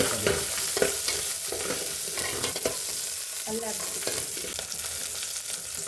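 Mustard seeds, cumin, green chillies and ginger frying in cooking oil for sambar, a dense close sizzle and crackle with occasional spoon scrapes, steady throughout and no talk.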